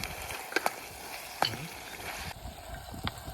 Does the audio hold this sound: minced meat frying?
yes